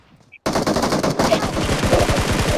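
Automatic gunfire in the battle royale game PUBG. After a brief quiet moment, a loud, sustained burst of rapid, evenly spaced shots rattles on close by, with a faint voice in the background.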